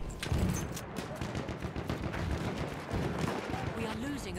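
Shotguns and other guns fire in a first-person shooter match, bursts of shots rattling close by under continuous player voices.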